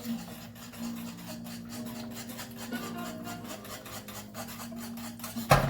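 Whisk scraping through flour and gravy in a pan, a steady, quiet rasping and rubbing rhythm of repeated strokes, close up, ending in a brief louder clatter.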